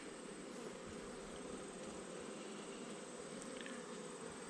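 Honey bees hum steadily inside a hive box holding a small colony with a good queen and brood, a dense continuous buzz with no talking.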